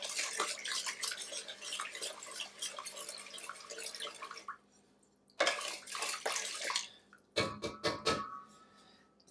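Sugar being stirred into water for homemade ginger beer, a wet swishing and clinking in bursts that stop, resume, then stop again, fairly close and moderately loud.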